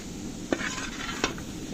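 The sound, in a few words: stirring vegetable pieces in a pot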